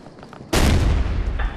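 A frag grenade detonates in Ghost Recon Future Soldier, a sudden loud, close boom that rolls into a long, dense rumble and debris crackle for about a second.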